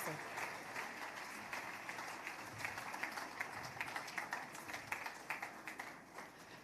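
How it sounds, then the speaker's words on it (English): A conference audience in Nigeria gives a round of applause after a speaker, a faint, steady patter of clapping with some voices mixed in. "Wow, a round of applause."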